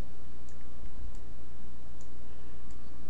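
Mouse clicks while working through the Windows Services list, a few sharp, light ticks spaced irregularly over a steady low background hum.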